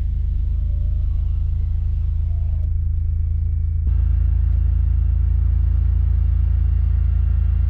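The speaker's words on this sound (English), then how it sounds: "And start the car." A car engine turns over and settles into a steady low idle rumble, close and continuous; the tone shifts partway through as the engine catches, with no talk.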